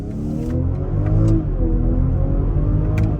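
The B58 engine of a 2023 BMW X5 40i pulls hard in first gear, a loud, steady, rising drone of layered engine tones heard close, with no talk.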